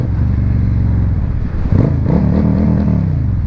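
A Suzuki Marauder built as a bobber revs close by, its engine note climbing and rolling in a loud, steady rumble with throttle swells partway through, and no talking.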